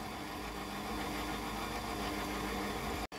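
A stand mixer kneads kouglof dough of flour, salt, sugar and butter, its motor running in a steady, even whir that holds for several seconds before cutting off abruptly at the end.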